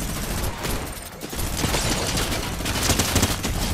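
A minigun in the Fortnite video game fires in a dense, continuous rattling burst, loud and unbroken for several seconds with no talk over it.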